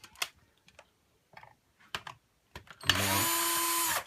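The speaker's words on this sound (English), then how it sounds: "We're using an electric screwdriver here, you can use a manual one" An electric screwdriver whirs loudly for about a second while removing T15 screws from a Dyson DC25 vacuum's brush roll housing, after scattered faint clicks and handling noises.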